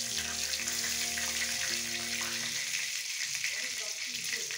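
Bay leaves and two dried chillies sizzle steadily in hot oil for a Bengali kathla fish curry, a constant bright frying hiss with faint clinks early on.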